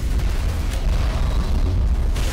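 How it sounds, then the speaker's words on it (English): Rockets collide and explode in Mass Effect as one continuous heavy, rumbling blast. The deep roar is loud and close and lasts the whole moment with no talk over it. "countered his rocket with my own"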